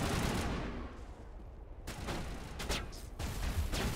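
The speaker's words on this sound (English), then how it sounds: "Man, I love the sniper rifle." Sniper rifle gunfire in the video game Mass Effect 1, two heavy booming shots a couple of seconds apart over dense, rumbling combat noise.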